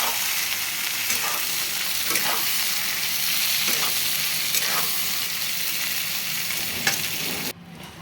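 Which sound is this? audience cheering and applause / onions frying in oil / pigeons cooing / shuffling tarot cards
onions frying in oil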